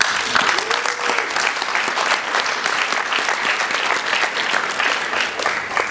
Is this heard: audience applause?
yes